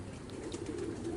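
Racing pigeons in a loft give a soft, low cooing that rolls on steadily and fairly quietly, with no talking over it.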